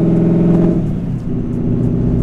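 A car fitted with a carbon fiber driveshaft accelerates, its engine and drivetrain making a steady, close mid-pitched drone that dips briefly before building again, with no talking.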